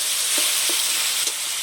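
Tomato and spices sautéed in oil until the oil separates, a steady loud sizzling hiss with a few soft stirring scrapes in the pan and no talking.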